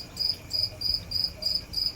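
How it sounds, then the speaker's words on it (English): Crickets chirp in a steady, evenly spaced pulse of six bright trills, moderately loud against a quiet background hiss near Lake Sidney Lanier. "Crickets."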